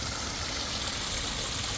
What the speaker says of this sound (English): Comes out to the waterfall,